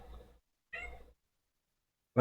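A cat meows indoors in two short separate calls, close and fairly loud, followed by a sudden louder burst at the very end.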